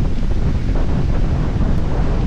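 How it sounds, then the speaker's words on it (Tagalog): Strong wind buffeting the microphone in a continuous loud roar, with a watery rush underneath and no talking, at a spot by a bridge in Dingalan, Aurora. "lakas ang hangin dito"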